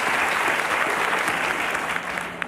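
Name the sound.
audience applause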